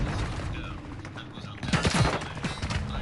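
Gunfire crackles in Call of Duty: Modern Warfare 2 multiplayer, fairly faint and distant at first, then a louder burst of rapid shots near the middle, mixed with game voices.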